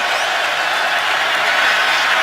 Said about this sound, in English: It's 3rd and 10 with the crowd making some noise here in Baltimore